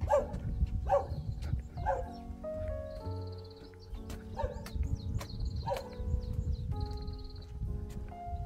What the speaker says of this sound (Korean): 동네 댕댕이가 또 짖어대기 시작합니다.